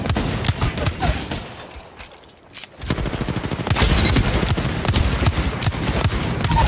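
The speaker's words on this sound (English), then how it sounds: "Bro, I'm literally shooting you" Rapid bursts of automatic gunfire from a shooter video game, dense and loud, with a brief lull before sustained machine-gun fire resumes and continues steadily.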